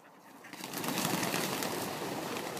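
A flock of ducks startles at a sneeze, a rising flurry of wingbeats and rustling that swells after a moment and then carries on as a steady close commotion, with no voices.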